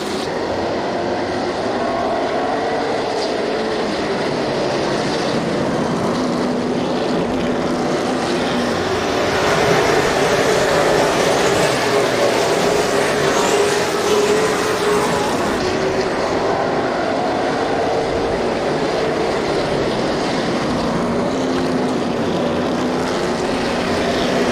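Late model stock cars at Sauble Speedway roar through a restart in the APC Late Model Series, a dense, continuous engine drone that swells louder midway, with no talking.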